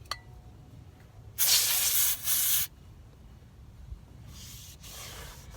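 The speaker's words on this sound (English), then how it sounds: "I'm going to spray the rag because I don't want to spray this while it sits on my leg." Aerosol brake cleaner hisses onto a shop rag in a loud close burst of about a second, a brief pause, then another, followed later by a fainter spray, during brake caliper work on a 1996 Isuzu Rodeo.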